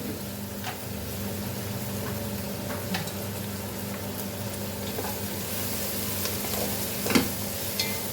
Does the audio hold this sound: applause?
no